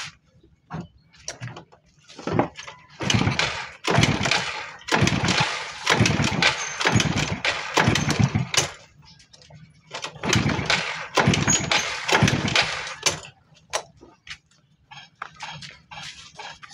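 A Euro 110 motorcycle engine is cranked repeatedly without catching, giving bursts of kick or starter churning separated by short pauses, close and loud, with no voices.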